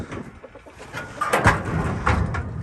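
Chickens clucking and murmuring close by, a few soft overlapping calls with low background noise.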